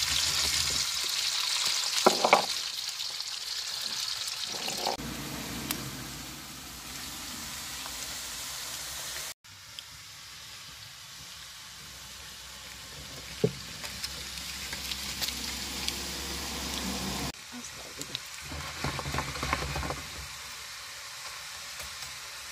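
Potatoes frying in olive oil in a pan over a wood fire outdoors in a village setting, giving a steady close crackling sizzle with soft bubbling and occasional sharper pops, continuous throughout.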